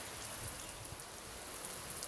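Water from a hose valve pours onto garden soil as a faint, steady, rain-like hiss with soft patters, with no voices over it.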